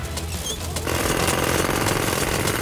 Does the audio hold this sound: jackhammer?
yes